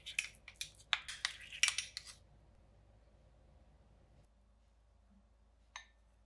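Ladle and bowl clink as oden is served from a Japanese hot pot, a quick cluster of light ceramic and metal taps over about two seconds, then near quiet with one faint clink later.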